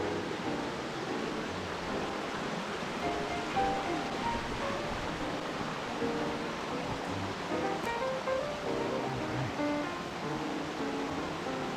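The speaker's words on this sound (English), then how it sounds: "coming up on a pretty cool waterfall" Steady rushing roar of a waterfall beside a mountain trail on the climb to Middle Fork Lake, a constant broadband wash of falling water that stays even and fairly close throughout.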